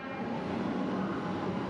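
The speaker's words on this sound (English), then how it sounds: "Here's our train, an EDI refurbished train, built in 1983." A Comeng EDI refurbished suburban electric train, built in 1983, pulls into a Melbourne station on the Flinders Street to Footscray run, giving a steady, loud rumble of wheels and motors with no talk over it.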